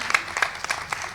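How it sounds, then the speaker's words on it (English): Brief scattered clapping from a fashion show audience, a handful of distinct claps close together over about a second, fairly light and thin. "Let's give them a round of applause, please."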